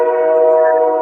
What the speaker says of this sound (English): That just sounds so strange to me to hear a train in Jamaica.